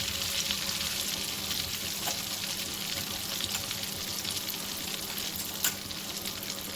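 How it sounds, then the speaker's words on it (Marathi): Mustard seeds hit hot oil for an egg ghotala dish and sizzle in a steady, loud, close hiss with a few sharp pops and crackles throughout, no voices. "आता तेल पण गरम झालेलं आहे त्याच्यामध्ये टाकू मोहरी"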